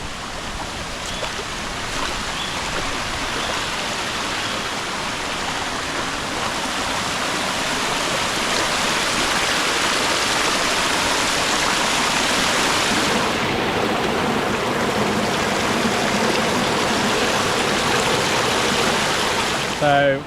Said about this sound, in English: So we found our water stop, fresh spring water coming out of the mountain